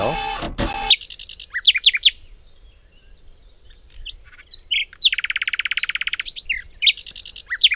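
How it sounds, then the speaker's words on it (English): A recorded nightingale song plays back clearly: bursts of sharp chirps and whistles, a long rapid trill in the middle, and a pause of near silence between phrases. "Nightingale."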